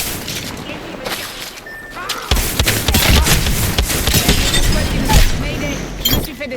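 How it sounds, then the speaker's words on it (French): Enemy gunfire in a tactical shooter video game, loud rapid bursts of shots and impacts running steadily from a sudden onset, with someone speaking French over the firing. "L'ennemi me tire."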